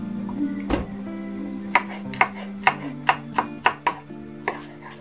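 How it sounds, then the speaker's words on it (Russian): Garlic is chopped with a knife on a board, about a dozen sharp, distinct knocks in an uneven rhythm, close and clear over a low steady kitchen hum. "Также нарезаем чеснок."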